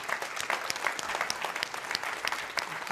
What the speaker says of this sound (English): Let's give a huge round of applause to Snora and all his GMs for the wonderful,